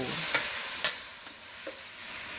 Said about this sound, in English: Now the stove is actually on medium because you don't want the ginger to burn out.